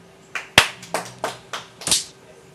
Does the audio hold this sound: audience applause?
yes